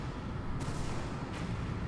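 Rumbling explosions from the video game Sonic Adventure, a dense continuous low boom with two sharper blasts flaring through the sustained roar.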